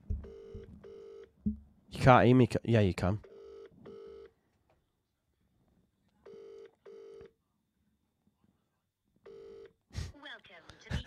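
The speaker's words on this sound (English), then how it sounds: "Can you hear this ringing?" A telephone rings in short, evenly spaced double bursts with silent gaps between them, while a person speaks briefly between the rings.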